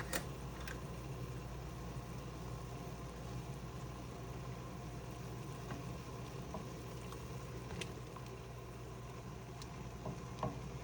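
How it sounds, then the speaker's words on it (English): A pot of water with pink salmon at a steady rolling boil, producing a constant bubbling hiss with occasional small pops, close and alone without talk. "Bring that to a boil"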